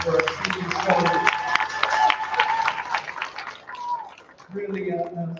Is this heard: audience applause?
yes